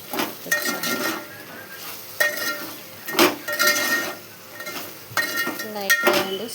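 Vegetables being stirred in a pan with salt and chili powder for a Telangana okra curry, heard as a series of scraping, clinking strokes of a utensil against the pot, separated by short pauses, with a faint sizzle underneath.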